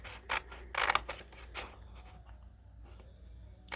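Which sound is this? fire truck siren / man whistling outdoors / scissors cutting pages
scissors cutting pages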